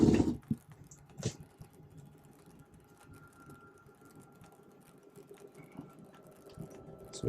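Two slide-outs, the back and middle ones, extend together on a 2015 Coachmen Catalina 333BHKS camper, giving a faint, steady mechanical drone with scattered light ticks and a couple of sharper knocks near the start.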